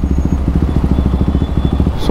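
A motorcycle idles close by with a loud, steady, rapid low thump as it is parked, faint high tones drifting over the engine.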